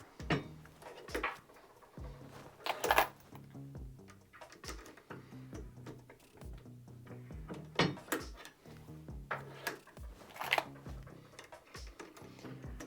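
CPS competition primer seater from Primal Rights shuttled back and forth in a steady routine, giving repeated sharp wooden clunks and clicks at close range, roughly one every second or so, with no talk over them.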